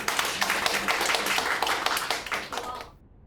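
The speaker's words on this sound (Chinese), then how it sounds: "请鼓掌" Audience applause at a Christian fellowship gathering: many hands clapping in a dense, steady patter for about three seconds, then fading out quickly to silence.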